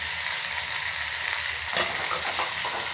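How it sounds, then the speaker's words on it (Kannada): Grated coconut frying in a pan with coriander and doddapatre leaves for tambuli makes an even, hissing sizzle, interrupted once by a single spatula scrape partway through. "ಕಾಯಿ ತುರಿನೂ ಸ್ವಲ್ಪ ಫ್ರೈ ಆಗಲಿ."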